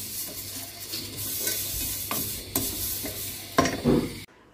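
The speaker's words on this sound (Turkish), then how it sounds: "Zeytinyağında böyle tarhanayı kavuruyorum." Tarhana toasting in olive oil in a pan, a steady close sizzle broken by several sharp scraping stirs of a spoon, the last ones loudest before the sound cuts off abruptly.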